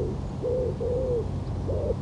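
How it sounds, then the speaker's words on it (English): Several soft, low cooing bird calls, three drawn-out notes in a slow sequence, heard over steady outdoor background noise. "there's a lot of bird noise."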